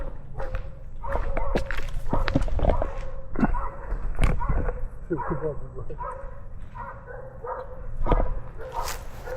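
Dogs bark in bursts outdoors near a house as people react to a bear, sharp yips and barks scattered across the stretch, mixed with excited voices and movement, fairly close and loud.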